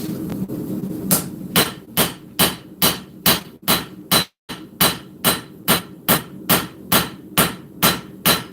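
Hammer blows forging a full integral steel knife, about fourteen sharp, ringing strikes in a steady rhythm, loud and close, with a brief pause midway and no talking.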